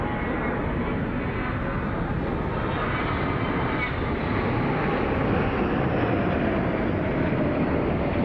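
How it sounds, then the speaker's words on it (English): Patrulla Aguila jet team aircraft at an air show, heard as a loud, continuous broadband roar of jet engines that stays steady for several seconds with no clear pass-by peak. "the other delightful thing that the Patrulla Aguila does is they land in formation"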